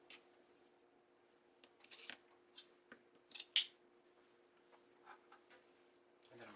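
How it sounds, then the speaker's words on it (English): Scissors snip through deco mesh for an Easter bunny wreath, with a few quiet, scattered cuts and one sharper, louder snap near the middle over a low steady hum. "I'm going to cut it off right here"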